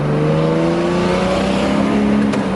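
A 1969 Mercedes-Benz 280SE W108 with a four-speed manual pulls away in second gear, its engine note droning loud and steady as the pitch slowly rises under acceleration.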